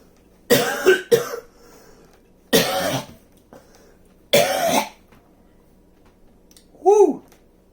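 Several harsh, close coughs in separate bursts with short pauses between them after a hit from a Dr Dabber device, followed by a brief voiced grunt or sigh at the end.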